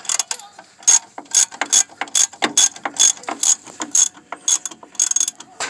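A hand ratchet tightening bolts on a 2000–2005 Chevy Blazer hub assembly clicks in rapid pawl bursts, each stroke a loud close rasp in an even back-and-forth rhythm, without speech.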